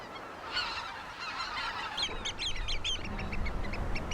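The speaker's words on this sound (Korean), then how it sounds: "호수 주변 물가는 새들의 천국이다. 다양한 종류의 새들이 한데 어우러져 먹이 사냥으로 하루를 보낸다." Various waterbirds call along the lake shore at Sihwa Lake, goose-like honks and overlapping calls at moderate distance over a steady low outdoor background.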